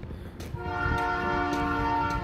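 A distant train horn sounds in a long, steady, tonal blast over a low rumble of passing rail traffic outdoors.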